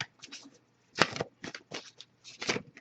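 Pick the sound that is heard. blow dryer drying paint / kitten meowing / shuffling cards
shuffling cards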